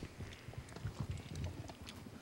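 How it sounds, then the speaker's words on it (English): A cow chews its cud close by, giving soft, steady, irregular grinding and munching thumps with no voices. "Listen to those chewing cud sounds."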